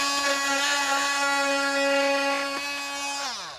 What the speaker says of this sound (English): every contractor should have an oscillating tool